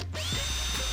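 Power drill boring guide holes in a plastic part while fitting accessories to a blacked-out Jeep Wrangler JK Unlimited; a brief, close, steady motor whine that starts abruptly, with no talking.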